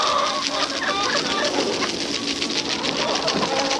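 Chickens in a farm coop cluck and murmur nearby on a frozen winter day as treats arrive, with overlapping soft clucks and coo-like calls going on continuously for a few seconds.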